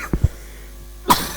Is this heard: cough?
yes